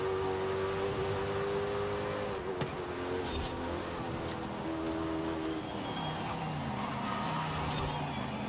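A Koenigsegg hypercar engine in Forza Horizon 5 holds a loud, steady drone whose pitch climbs and then shifts through gear changes. It runs close and continuous for the whole stretch, with faint background noise underneath.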